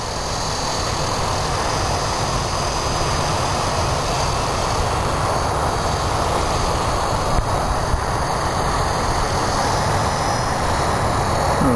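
Trex 450S RC helicopter flying outdoors, a steady, loud, continuous whine and buzz of its small engine and rotors that holds level for the whole stretch, with no voices.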